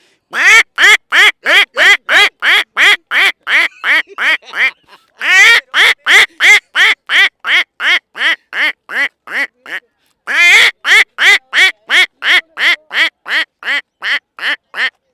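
A person imitates a duck's quacking with loud, close, rapid nasal quacks in three long rhythmic bursts, separated by brief pauses.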